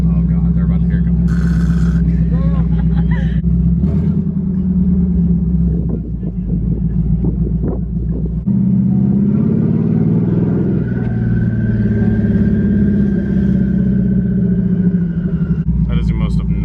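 Engine of a 1000hp turbocharged Mustang revving loudly at close range, deep rumbling bursts and a rising whistling turbo spool, with people talking over it.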